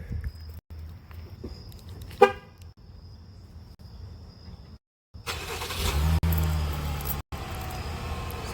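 A 2021 Chevy Blazer V6, fresh from a spark plug and coil pack change, idles with a steady low rumble; a brief chirp comes early, and the engine grows fuller and louder in the second half.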